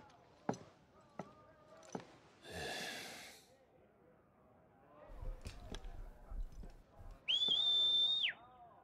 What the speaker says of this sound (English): Jill can whistle.